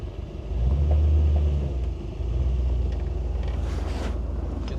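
Ford Fairlane Crown Victoria with a muffled, quiet exhaust idling low and smooth while it backs up in reverse; a deep steady rumble with a slight swell early on, alone and close.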